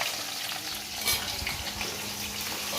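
Onion frying in a pan for chicken curry, giving a steady, close, fairly loud crackling sizzle with occasional stirring scrapes throughout.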